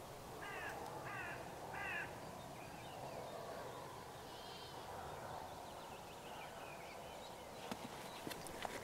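Hooded crows outdoors on a frosty day give three harsh caws in quick succession, followed by fainter, more distant calls over a soft outdoor background.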